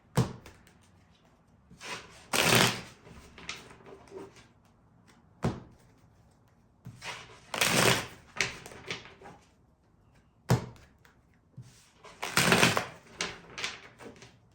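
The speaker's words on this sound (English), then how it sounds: "I still need to keep shuffling" A deck of tarot cards is shuffled in repeated bursts, each a crisp riffling flutter lasting about a second, separated by quiet pauses and a few sharp taps.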